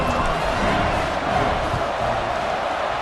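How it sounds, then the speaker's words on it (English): Stadium crowd in College Football 26 roars and buzzes steadily after a Texas touchdown, a dense, loud wall of cheering that holds without a break. "this crowd is buzzing after that last score"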